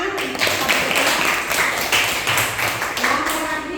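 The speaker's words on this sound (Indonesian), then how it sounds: "tepuk tangan" Hand clapping from students in a classroom, a steady, moderately loud patter of many claps lasting a few seconds, with some voices underneath.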